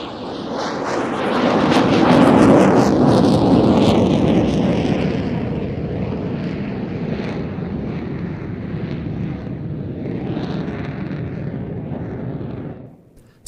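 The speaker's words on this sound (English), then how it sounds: "Some really nice trails being left by the F-16 there." An F-16 fighter jet flying a Cuban 8 display manoeuvre: a loud, broad jet roar that swells to a peak, then holds a steady rushing drone as the aircraft passes and draws away, with a breathy, wind-buffeted edge.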